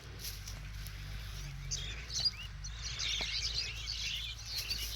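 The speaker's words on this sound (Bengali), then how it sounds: "পাখিগুলো উঠতেছে সেই লাগে" A flock of birds chirps steadily in the distance, their calls mixed with a few wingbeats as they take off, all over a constant low outdoor rumble.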